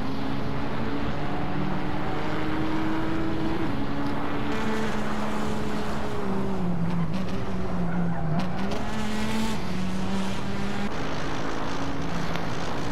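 Race cars, including a Nissan GTR, roar past in a racing video game, a continuous dense engine drone with shifting pitch and occasional tire squeal, no talking.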